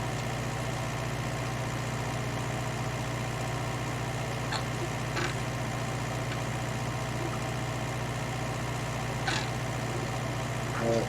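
A 1966 Ford 5000 tractor engine runs steadily at idle, a low continuous drone holding even throughout with a few faint clicks and knocks over it.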